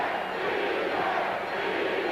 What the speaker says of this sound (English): this crowd at a fevered pitch at the Spectrum in Philadelphia